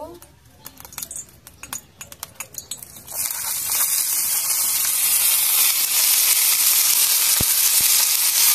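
Potatoes dropped into hot oil in a wok, starting with a few clattering knocks before a loud, steady sizzle swells and holds, close by with someone speaking over it.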